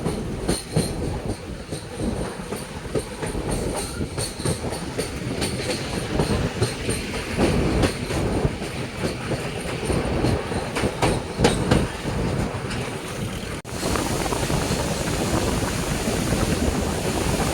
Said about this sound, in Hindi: ये फरक्का बैराज है दोस्तों, जिस पर अपनी ट्रेन चल रही है